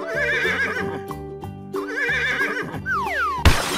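Horse whinnying in repeated bursts over a steady musical backing in a children's animal-painting cartoon, ending with a rising whistle-like sweep and a sharp crash.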